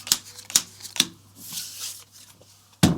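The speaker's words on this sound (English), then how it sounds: "Then we take the alarm card and shuffle it in." Playing cards being shuffled into the dungeon deck of the Aventuria board game: three quick riffles early, a softer rustling stretch, then a final loud riffle, all close by with no talking.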